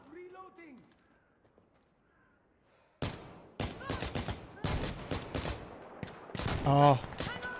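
G3 battle rifle fire in the shooter game Insurgency Sandstorm, a loud rapid burst of shots after a quiet stretch, with further bursts and impacts close up.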